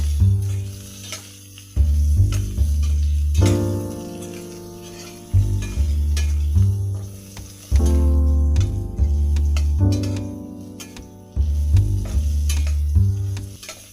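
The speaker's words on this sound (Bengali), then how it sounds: "একটি কড়াইয়ে সরিষার তেল নিয়েছি। আগে থেকে কেটে ধুয়ে রাখা আলু দিয়ে দেব। একটু হলুদ দিয়ে আলুগুলো মোটামুটি করে" Cut potatoes with turmeric fry in mustard oil in a wok, a loud continuous sizzle broken by repeated stirring, with a heavy low rhythmic thumping pulsing underneath at regular intervals.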